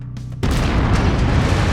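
After a brief low rumble, fuel tanks explode with a sudden loud boom when shot in the video game Mechwarrior 5, followed by a dense, sustained roaring blast.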